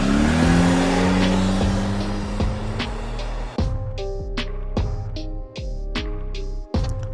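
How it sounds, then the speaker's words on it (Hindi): A car engine revs loudly and pulls away in an animated horror story, with a rising whine and sharp tonal bursts over a steady low rumble. "फिर तीनों गाड़ी में बैठकर वहाँ से जाने लगते हैं।"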